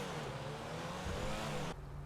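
A Pfister Comet S2 sports car driving in GTA Online, a steady loud engine drone with rising pitch as it accelerates, then a sudden gear shift near the end, close and continuous with no talking.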